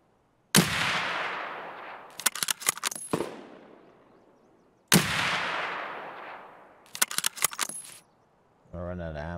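Two loud sniper rifle shots ring out in Escape From Tarkov on the Shoreline map, each a sharp crack with a long rolling echo, followed by quick metallic bolt-cycling clicks, then a brief burst of voice.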